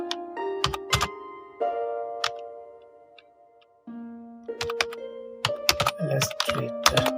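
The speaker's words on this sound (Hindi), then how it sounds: "अब देखिए, मैं उर्दू टाइप करता हूँ।" Sharp, irregular clicks from a computer keyboard as Urdu text is typed, the close keystrokes coming in uneven bursts over a steady background tone that shifts pitch several times.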